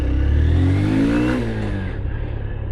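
A 2023 Honda CB Hornet 160R motorcycle engine revs up with a rising, throaty roar that holds steady and then eases off slightly, loud and close.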